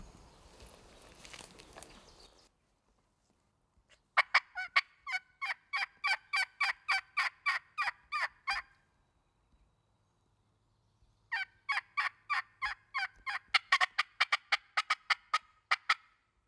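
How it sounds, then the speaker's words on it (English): Loud, rapid gobbling from wild turkeys in two long bursts separated by a quiet pause, each a rattling series of sharp calls close by. "these turkeys start gobbling really well"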